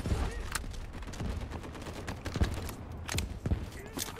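Gunfire rattles in the mobile shooter Delta Force Mobile, with quick bursts and single sharp shots scattered irregularly at moderate distance over a busy battle ambience.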